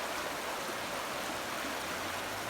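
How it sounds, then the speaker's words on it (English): A cold river at a campsite rushes in a steady, dense wash of flowing water, close and constant with no voices. "we're grabbing some water for the night from this beautiful cold river"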